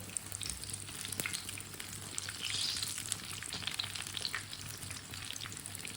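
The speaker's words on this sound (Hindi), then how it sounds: "अब दोनों साइडों से उल्टाते पलटाते पका लेते हैं, जलने नहीं देना।" A breakfast flatbread fries in a pan and is turned over from side to side, giving a loud, steady sizzle with a brief swell in the middle and a few crisp clicks from the turner.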